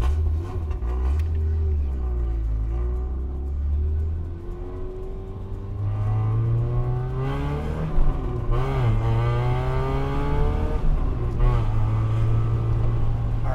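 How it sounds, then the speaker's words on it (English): A 2015 Volkswagen Golf GTI fitted with an aftermarket exhaust revs repeatedly, the engine note rising and falling in several loud, close blips over a steady idle rumble. "This specific car is fitted with apparently an aftermarket exhaust, so it's going to sound awesome."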